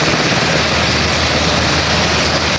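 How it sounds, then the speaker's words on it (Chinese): Loud, steady engine and rotor roar from Black Hawk helicopters landing on a large open sports field, a dense continuous drone close by with no voices. "直升机降落停机坪"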